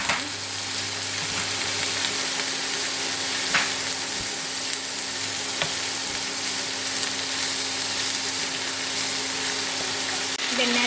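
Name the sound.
stir-frying snake gourd poriyal in a pan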